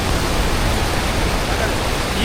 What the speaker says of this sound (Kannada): ಸಖತ್ತಾಗಿ ಹರಿತಾ ಇದೆ ನೀರು